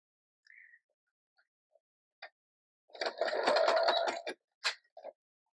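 A sewing machine stitches paper for a handmade Bible study envelope, a dense rapid whirring burst of about a second and a half, preceded and followed by brief soft handling clicks in a quiet room.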